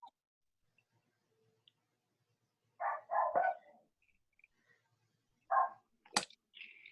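A pet dog barks a few short, muffled woofs in a quiet room, two separate bursts of barking with silence between them.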